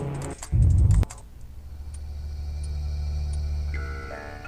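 Computer keyboard keys pressed on a PC during game setup in Batocera, a quick cluster of loud, close clicks followed by quiet hum.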